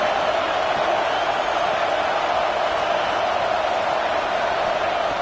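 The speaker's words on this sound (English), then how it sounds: "the crowd really making some noise now, trying to help out this defense to get this stop near the goal line" A dense, steady roar from a packed football stadium crowd during Michigan vs Ohio State as the defense tries for a goal-line stop, continuous and loud with no breaks or spoken words.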